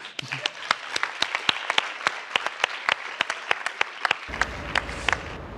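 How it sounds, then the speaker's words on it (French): An audience applauding at an academic event, many sharp claps in an uneven rhythm, moderately close and filling the room, without talking over it. "Vous êtes formidables et vous pouvez vous applaudir."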